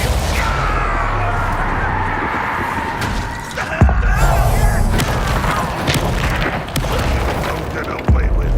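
Bombarda explosion spell blasts in Hogwarts Legacy, a deep boom landing mid-clip amid rumbling combat noise and scattered sharp pops, with faint voices underneath.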